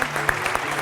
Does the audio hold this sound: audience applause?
yes